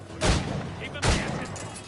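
Two loud gunshot bursts from a video game, about three-quarters of a second apart, with a voice talking faintly underneath.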